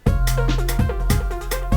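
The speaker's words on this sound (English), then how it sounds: "added a pluck sound, their sort of lead sound, which sounds like this" Synth pluck lead made in Omnisphere plays a short bouncy phrase, bright notes with quick attacks over a sustained low bass, loud and close.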